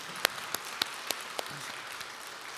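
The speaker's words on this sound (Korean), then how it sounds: "영광, 박수 올려드리겠습니다." A church congregation at a Sunday worship service claps, with a few sharp, distinct claps standing out over a quieter, fainter spread of hands, thinning out toward the end.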